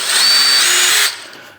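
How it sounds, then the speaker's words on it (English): A power drill pre-drills a small screw hole in the top hoop of a Bronco or Blazer with a slightly undersized bit, whining loudly and steadily up close for about a second before spinning down. "what I like to do is just kind of pre-drill that with a drill bit that's a little bit smaller than the screw is"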